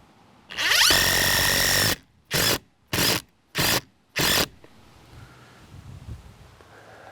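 A power drill drives a countersunk screw into plywood under a water-damaged window sill: one long loud whirring run, then four short bursts as the screw is seated, followed by quiet room tone.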